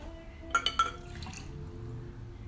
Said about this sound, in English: we're going to get rid of that water. I'm going to pop it into the cup.